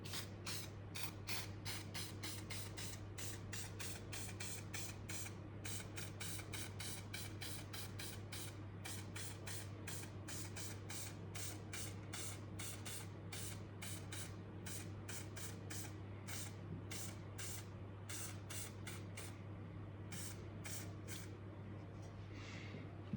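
Gray spray paint going on as a first coat, a long series of short rhythmic hissing bursts from the can, fairly quiet over a steady low hum.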